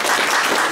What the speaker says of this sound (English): Let's give Jimmy a round of applause, folks.